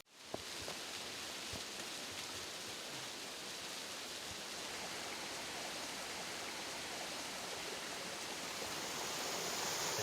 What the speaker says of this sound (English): every once in a while you run into a waterfall like this and it truly takes your breath away